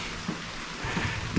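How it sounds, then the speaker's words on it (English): Rain falling steadily outdoors on a homestead building site, a continuous close hiss of drops with a few soft thumps, no talking. "It's starting to rain worse"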